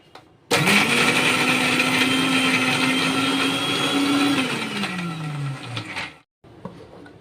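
A mixer grinder whirs loudly, grinding a fine coriander spice paste, its steady motor drone holding for about five seconds, then winding down in pitch before cutting off abruptly.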